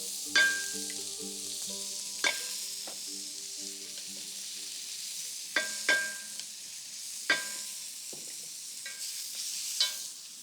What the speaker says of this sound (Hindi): बिल्कुल थोड़ा सा तेल डाला, वो भी प्याज के साथ। उसी में अदरक लहसुन